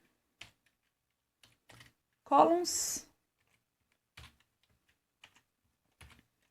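Sparse computer keyboard keystrokes click singly and in small clusters at a close distance, with a short burst of speech in the middle.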